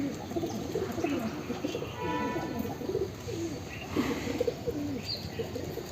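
White pigeons coo in soft, low repeated phrases outdoors near a rooftop, with faint chirps and a steady background hum throughout.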